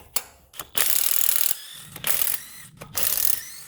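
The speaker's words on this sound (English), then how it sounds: "use a socket ratchet combination" A socket ratchet works a spark plug on a 2011 Toyota RAV4, producing close, loud bursts of rapid clicking separated by short pauses, with quieter knocks in between.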